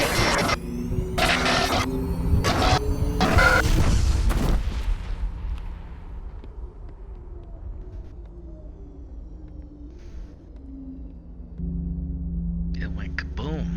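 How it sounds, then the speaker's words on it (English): Kaboom of a sharp burst of loud, close blasts that ends in a deep, heavy boom, then a long rumbling decay and a low hum, with another burst of noise near the end. "It went kaboom."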